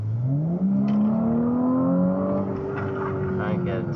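An Audi A5 with a four-cylinder engine accelerates hard on the road, its engine note climbing steadily in pitch through a gear, heard from inside the cabin while people talk.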